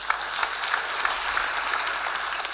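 Applause from a seminar audience, dense steady clapping from many hands filling the room without a break.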